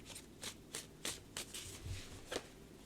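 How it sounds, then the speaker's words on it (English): A tarot deck is overhand shuffled by hand in soft, quiet bursts of card riffling, about six short swishes at a fairly regular pace, close and gentle. "it just shuffles nice. It's nice and quiet. Nice to overhand shuffle."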